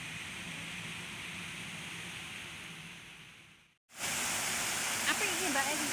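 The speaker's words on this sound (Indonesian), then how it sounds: "Ini di belakang saya ada air terjun di sini." Waterfall in Yunnan Garden, Singapore: a steady broadband rush of falling water, briefly cut off then returning louder and closer, with faint voices under it.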